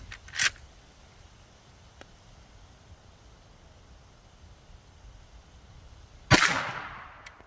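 .327 Federal Magnum gunshots are fired at test targets. A sharp, smaller crack comes early, then quiet, then a loud report near the end with a ringing decay.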